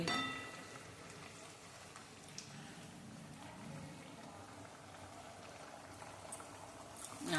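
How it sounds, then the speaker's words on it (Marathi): A steady, quiet bubbling and simmering of a thick vegetable curry cooking in a pot, continuous throughout with occasional soft pops, no talking. "भाजीला आपल्या उकळी आलेली आहे"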